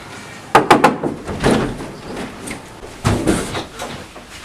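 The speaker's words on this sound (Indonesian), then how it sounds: "Pengawal pun segera mendorong pintu itu dengan kasar, sehingga terbukalah pintu kamar Purbasari" A door is shoved open roughly in a school stage drama, giving a cluster of sharp knocks and a rattling thud followed by a second heavy bump, near and fairly loud.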